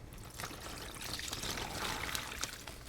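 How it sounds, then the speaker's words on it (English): Marinade for bruschetta chicken pasta is poured into a container, a close, continuous liquid trickle and splash lasting a few seconds with no talking. "I'm just going to pour all this marinade into it"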